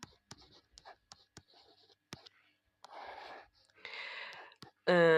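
A pen handwriting a math expression on paper, with short scratchy strokes and taps in quick irregular bursts, close and quiet, with brief longer scribbles near the end.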